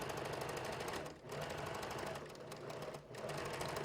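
A sewing machine stitches a fabric seam on a top at a fast, even rhythm, broken by two brief pauses, close by and steady with no talking.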